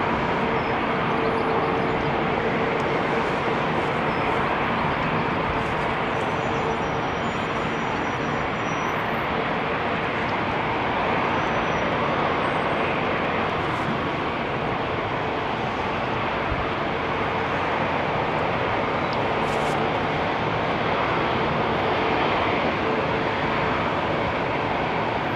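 A jet airliner departs runway 27R at London Heathrow, its engine roar loud and steady throughout, a broad, continuous rumble with no voices over it.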